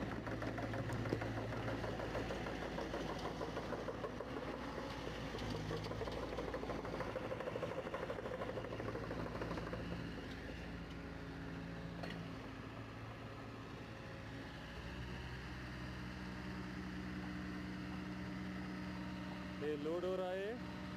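A large HDD drilling machine is loaded onto transport while its engine runs on with a steady, rumbling idle, loud and continuous, and voices talk over the noise.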